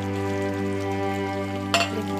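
Sliced onions and kasuri methi sizzle in a pan with chicken, a steady close frying hiss under a constant hum, with a brief louder scrape of stirring near the end.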